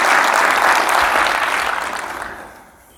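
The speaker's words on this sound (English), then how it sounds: "So big round of applause." An audience applauds loudly, a dense wash of clapping that holds for a couple of seconds and then fades away.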